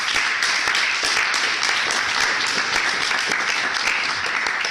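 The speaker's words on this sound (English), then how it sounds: "So big clap for them" Audience applause after a presentation at an event, a dense steady wash of many hands clapping that holds evenly loud throughout, with no speech over it.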